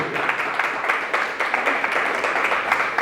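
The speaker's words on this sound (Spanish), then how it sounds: "Este aplauso que sea para el Señor." A church congregation applauds for the Lord, a continuous wash of many hands clapping at once, steady and fairly loud throughout with no single voice rising above it.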